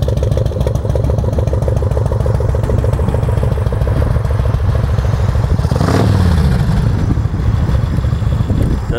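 A Yamaha Road Star special edition motorcycle with megaphone-style mufflers idles with a loud, close, rhythmic lumpy thump, briefly blipping the throttle in a quick rev near the middle.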